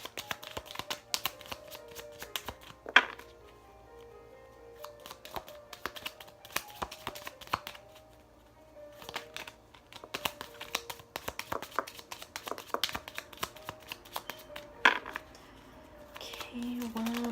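Tarot cards being shuffled and drawn by hand: soft, quiet flicks, riffles and papery slaps in irregular bursts, heard close up beneath occasional talking.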